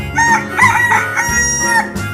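A rooster in an animal cartoon crows a full cock-a-doodle-doo, loud and close, its warbling call rising and falling for about two seconds with no talk over it.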